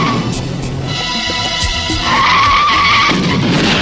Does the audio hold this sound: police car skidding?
yes